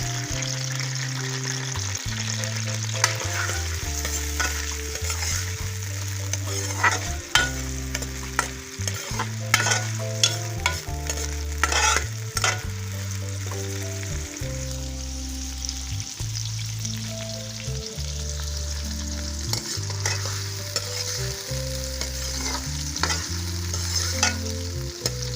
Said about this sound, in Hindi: अब इसमें प्याज डाल दें।